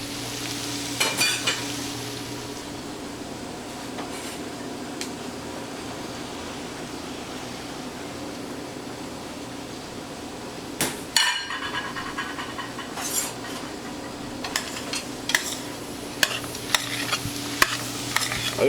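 Vegetables and Yukon Gold potatoes cooking in a soup pot for ham and brie soup, with a steady loud sizzle and frying hiss under repeated stirring and occasional clinks of a utensil against the pot, no voices.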